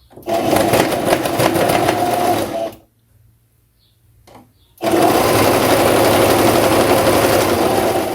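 An electric sewing machine runs in two loud, steady bursts of rapid stitching along a blouse shoulder seam, with a near-silent pause between them.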